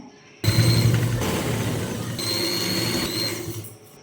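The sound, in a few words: sewing machine stitching the side seams of a baby frock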